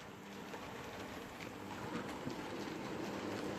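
Coronation Scot model train pulling out of a station, a steady close rolling rumble and hum that builds slightly, with faint rhythmic wheel clicks.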